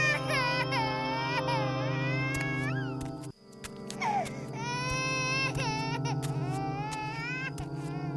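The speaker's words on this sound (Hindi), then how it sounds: "ये रोने की आवाज कैसी?" Crying in a Hindi horror story scene, a sustained high wailing cry with wavering pitch that rises and falls, loud and close, breaking off briefly midway before resuming in a more strained, sobbing way.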